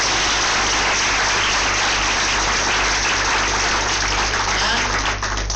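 Dense, steady applause from a conference audience at a breastfeeding week event, a continuous broadband patter that stays loud and even for the whole stretch with no pauses.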